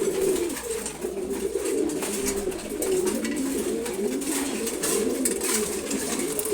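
Several racing pigeons, including silver khaki racers, coo in a backyard loft, the low rolling calls repeating in overlapping waves throughout, fairly close and steady, with no voices.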